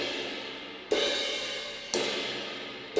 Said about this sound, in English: as I'm doing those crashes, I am using the shaft of the stick on the cymbals